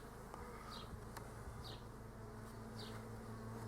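Honeybees buzzing around a hive, a steady low drone with faint passing buzzes close by, continuous and quiet throughout.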